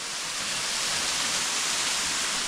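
Waterfall in the Tolminka area of Posočje, heard from above the falls as a dense, unbroken roar of rushing water, loud and steady throughout with no voices.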